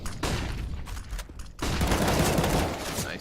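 Automatic rifle fire rips through a Counter-Strike: Global Offensive esports match in loud sustained bursts with a short gap before a heavier volley, and match commentary can be heard faintly beneath the shots.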